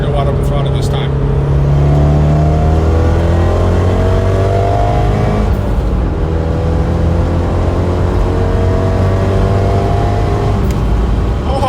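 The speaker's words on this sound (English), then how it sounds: "try to go wide open throttle this time" A big-turbo Abarth 124 Spider pulls hard at wide open throttle, its engine note rising steadily in pitch through the gear with a loud, continuous roar and a brief shift dip near the middle.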